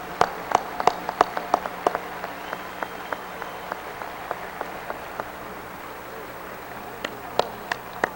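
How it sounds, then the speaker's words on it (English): An audience claps for the Honorable Minister Louis Farrakhan at a Saviours' Day gathering: sparse, scattered hand claps ring out in a hall, a few sharp bursts at the start and end with thinner, intermittent claps between. "let's give the Honorable Minister Louis Farrakhan another round of applause"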